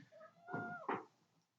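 A small cat meows close by, one drawn-out meow followed by a short second cry, then it fades to quiet.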